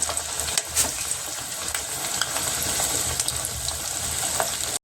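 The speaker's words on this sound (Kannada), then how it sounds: "ಎಣ್ಣೆ ಕಾಯ್ದಿದ್ದು ಎಣ್ಣೆ ಹಾಕ್ತಿದ್ದೀನಿ ನೋಡಿ" Poha vada (avalakki vada) frying in hot oil gives a loud, steady, close sizzling hiss with small crackles throughout and no talking.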